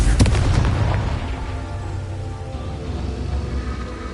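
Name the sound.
Confringo blasting spell explosion, from a Hogwarts video game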